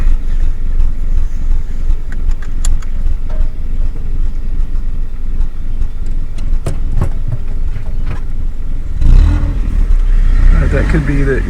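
A Toyota Corolla with an oil-burning problem idles roughly, giving a steady, close low rumble with slight unevenness throughout, and a voice briefly speaks near the end.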